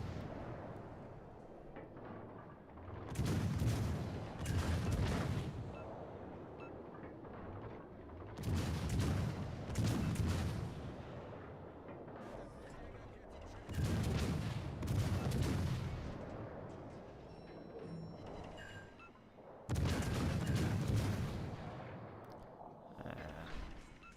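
Naval guns on a warship in World of Warships: Legends fire in four heavy salvos roughly five seconds apart, each a loud booming blast with a rumbling tail over continuous battle ambience.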